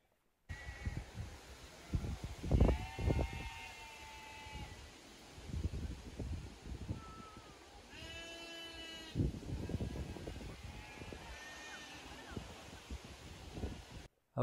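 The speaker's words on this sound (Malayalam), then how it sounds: "അതിൽ നിറച്ച ആടുകൾ നടന്ന് ഇങ്ങനെ തിന്നാണ്." Goats grazing across a hillside, with a few scattered bleats rising at intervals over a quiet outdoor backdrop and faint murmurs of activity.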